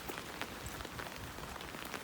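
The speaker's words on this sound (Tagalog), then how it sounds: "Umuulan pa rin po." Steady typhoon rain patters on a surface in the Philippine countryside, a dense, even hiss with scattered drops and no voices.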